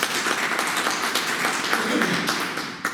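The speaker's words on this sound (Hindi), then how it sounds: "एक जोरदार ताली।" Audience applauding at a network marketing seminar in Jaipur, a dense, steady wash of many hands clapping throughout, loud and close.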